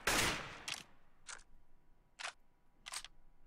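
AK rifle fire in a competitive esports shooter comes in short, sharp bursts: a louder opening volley, then three separated quick bursts with quiet gaps between.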